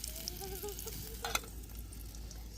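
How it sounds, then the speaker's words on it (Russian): Sausages fry on a small camping stove with a steady, soft sizzle and a brief clatter partway through, fairly quiet and with no voices. "Сосисончики жарю тут на мини-плиточке."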